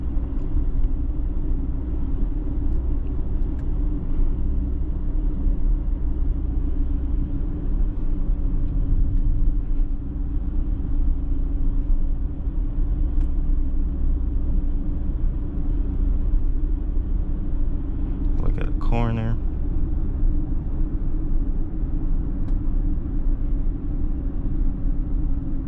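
A 2021 Audi Q8 S line being driven, with a steady, low road and engine rumble heard from inside the cabin for the whole stretch and a brief click partway through.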